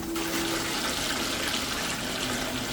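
A FLUENTPOWER 1/2 HP submersible sump pump runs steadily, a continuous rushing of water drawn down, loud and unbroken throughout with no talking.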